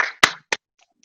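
A few sharp hand claps in quick succession, close and dry, the first followed by a brief burst of noise and the last trailing into silence.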